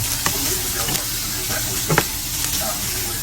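Browned beef tossed back into a hot pan for beef and broccoli in oyster sauce sizzles and hisses steadily up close, with a few louder scraping stirs near the middle.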